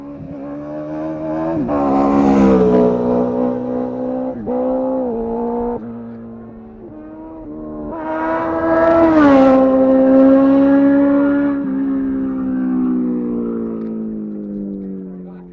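A motorcycle engine revs hard in two long loud surges to warm up the rear tire before wheelie stunts, its pitch sweeping up and falling back, with brief drops between bursts.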